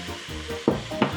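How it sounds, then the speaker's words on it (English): Meat sizzling as it hits hot oil in the base of a pressure cooker while browning for a Lancashire hotpot, a steady crackling fry with louder bursts as pieces are added and stirred, close and alone. "Hear that nice sizzle there?"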